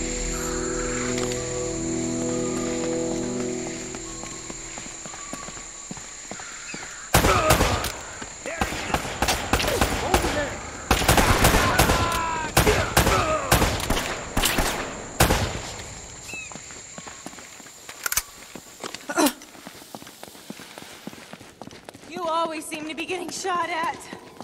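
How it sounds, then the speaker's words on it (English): Gunfire in the Uncharted: Drake's Fortune video game breaks out after a quieter stretch with music, sharp shots popping in dense irregular bursts and then thinning out, with game voices speaking between the volleys. "They're shooting at you too, you know."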